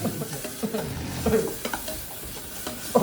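Egg mixture is stirred and scraped around a hot pan, with close, irregular scrapes and clatters over a low sizzle, the strokes coming in uneven bursts and a louder knock at the very end.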